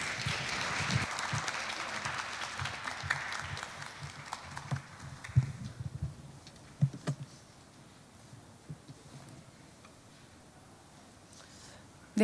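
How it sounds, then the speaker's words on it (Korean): An audience at a government R&D briefing session applauds to welcome a presenter, a burst of many hands clapping that fades after a few seconds into quiet room noise with a few scattered bumps and clicks. "큰 박수로 맞이해 주시기 바랍니다."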